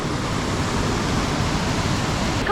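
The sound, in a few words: waterfall, Aira Force in the Lake District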